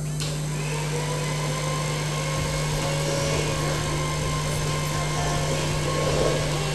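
An electric hand mixer beats nastar cookie batter in a bowl, a steady high-pitched motor whine with a strong hum holding evenly throughout, close and continuous with no talking.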